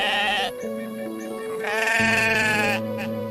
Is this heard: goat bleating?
yes